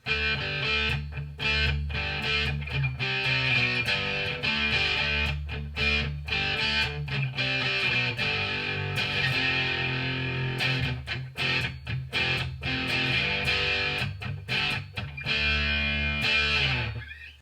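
An electric guitar plays through a JOYO Hot Plexi pedal with distortion at zero and tone around half, giving a loud, driven tone with rhythmic chords and short breaks between phrases, no voices.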